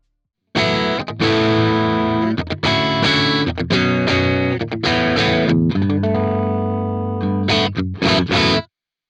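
Loud distorted electric guitar through an amp and mono cabinet simulator, playing chugging riffs with sustained chords and abrupt stops, heavy amplified tone, alone.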